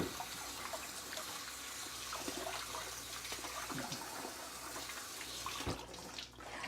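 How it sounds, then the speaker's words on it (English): Running water rinses down a butcher block board in a kitchen, a steady, fairly quiet hiss and splash that carries on evenly before tapering near the end. "We'll just wash that board down quickly"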